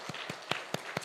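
Five sharp, evenly spaced claps ring out in a church as a congregation begins applauding, each hit crisp and close with short gaps between, no voices over them.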